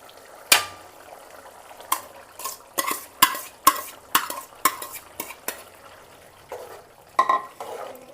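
A spoon stirs paneer into boiling gravy in a pan, with a run of sharp metallic clinks and scrapes at an irregular pace over a faint bubbling background, close by and without speech.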